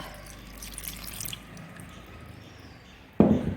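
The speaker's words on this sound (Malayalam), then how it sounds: "നമുക്ക് ഇതിലേക്ക് ഇനി തേങ്ങയുടെ തനിപ്പാലാണ് ഒഴിക്കുന്നത്." Thick coconut milk pours and splashes into a pot of beef curry, with a soft drip and wet slosh near the end, loud and close.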